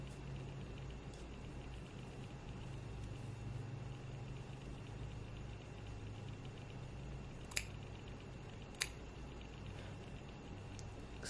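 Scissors cut the lace of a wig in a quiet room, giving two faint, sharp snips well apart over a soft steady background hiss.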